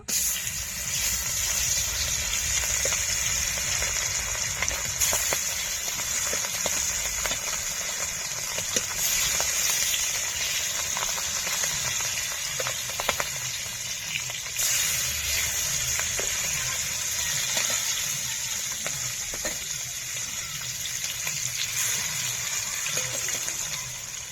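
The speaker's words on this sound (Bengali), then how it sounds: "তেল গরম হয়ে গেছে মাছ দিয়ে দেবো" Hilsa fish sizzling in hot oil in a wok, a steady, dense hiss and crackle that runs loud and unbroken throughout, with no voices over it.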